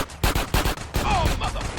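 Rapid gunfire from a drive-by in the video game GTA San Andreas, a dense burst of repeated loud shots in quick succession, with a faint voice-like tone mixed in.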